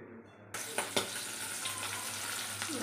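Fish frying in a hot pan in a home kitchen, a steady broadband sizzle starting abruptly after a brief quiet moment, with a few sharp spatters and pops, close and moderately loud.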